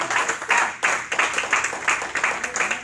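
A church congregation claps for the Lord during a Spanish-language sermon, the rhythmic, fairly close claps coming in repeated bursts over about three seconds with no talk.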